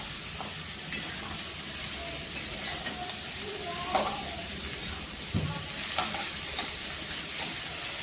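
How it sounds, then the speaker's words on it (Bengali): Cabbage and potatoes stir-frying in a pan, a constant close sizzle with intermittent scraping and stirring knocks throughout, no talking. "বাঁধাকপিগুলো আলুর সঙ্গে খুব ভালোভাবে কষিয়ে নিতে হবে।"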